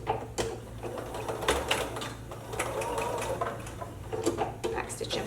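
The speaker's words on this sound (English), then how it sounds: "we're going to be sewing a 3/8 inch seam allowance, which is just slightly bigger than 1/4 inch" A sewing machine stitches a 3/8 inch seam on a Christmas stocking, running in steady close bursts with a rapid mechanical rhythm, with some speech mixed in.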